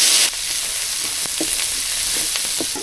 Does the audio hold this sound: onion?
yes